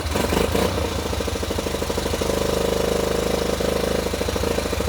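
A Yamaha Badger YFM80 ATV engine idles just after starting, a loud, fast, even putter with a slight rattle, close by and running alone.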